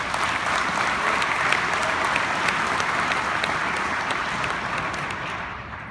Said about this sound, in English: particularly deserves a round of applause.